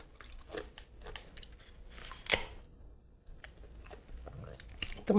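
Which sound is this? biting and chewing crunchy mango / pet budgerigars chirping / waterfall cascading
biting and chewing crunchy mango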